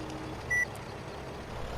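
A farm vehicle in the video game Farming Simulator 17 gives a single short electronic beep over a quiet, steady engine hum.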